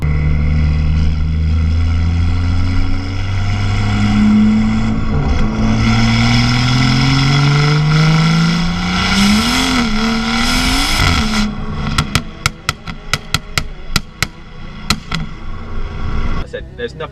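A BMW M140i with a B58 engine and a loud aftermarket exhaust revs up in long rising sweeps. It then breaks into a burst of sharp, sporadic pops and crackles, close and loud.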